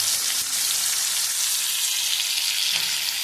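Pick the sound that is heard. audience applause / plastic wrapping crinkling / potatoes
potatoes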